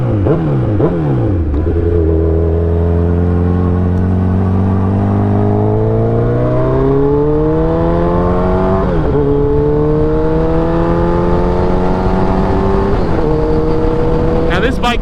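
A Suzuki Hayabusa sport motorcycle accelerates hard, its engine note climbing steadily through the gears with brief dips at each shift, loud and sustained, heard from the rider's position with wind noise.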